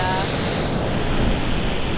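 Low surf at a beach in Brittany at a tide level where the waves are nearly flat, a constant broad wash of water mixed with gusting wind noise on the microphone.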